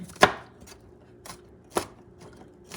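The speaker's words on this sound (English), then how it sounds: "I also have a couple of garlic teeth. Smash them and cut them." A knife chops smashed garlic cloves on a cutting board: three sharp, close thuds spaced about a second apart with a few fainter taps between, quiet otherwise and without talk.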